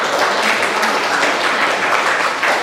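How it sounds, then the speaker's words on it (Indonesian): Dense, steady applause from a group filling the whole stretch, clapping for a presentation of a group discussion in a classroom teaching session. "kita kasih tepuk tangan dulu untuk"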